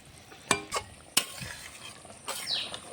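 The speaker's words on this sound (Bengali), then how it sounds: "ভেজে রাখা মাছগুলো দিয়ে ভালো করে কিছুক্ষণ ফুটিয়ে নামিয়ে নেব।" Fried fish stirred and simmering in a curry with boiled potatoes, with a soft bubbling sizzle broken by a few sharp clinks and scrapes of a spoon against the pot.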